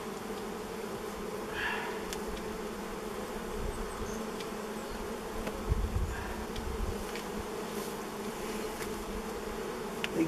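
Bees hum steadily around an old beehive left unopened for over thirty years, a dense close swarm drone with a few individual bees buzzing past, no voices.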